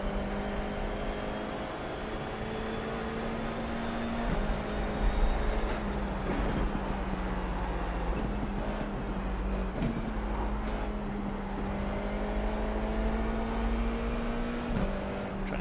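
Formula 4 race car in a sim racing game pulling out of the pits at Rudskogen, its engine holding a steady high drone with brief gear-change dips, loud and close throughout.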